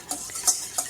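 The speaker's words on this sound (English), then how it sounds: "Actually, I'm going to whisk those a little bit first." A whisk clicks against a bowl while beating egg yolks with thick condensed milk, three or four quick close taps in a short burst.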